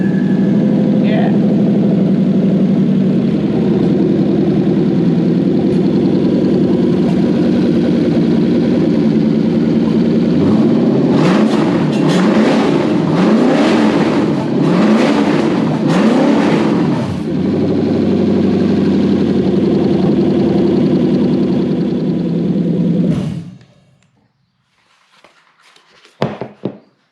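A Toyota Soarer / Lexus SC400 engine idles steadily after its wiring loom was rebuilt, a continuous mid-low hum with a brief rise in revs midway, then it shuts off leaving near silence and a few small clicks.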